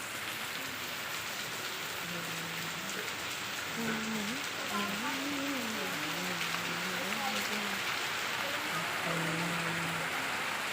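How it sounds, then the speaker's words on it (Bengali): Heavy rain pours in a constant broad hiss close by, while a voice speaks faintly under the downpour. "খুব বৃষ্টি হচ্ছে"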